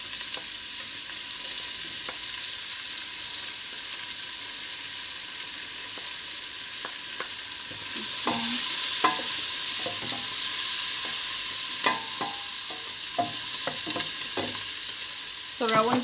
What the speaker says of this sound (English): I'm gonna put the onions in. Yep, and see the oil